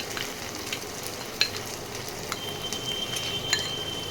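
Spice paste sizzles in a hot pan of mutton kosha on lowered heat, a steady frying crackle with two sharp pops near the middle and end, close and alone with no talk.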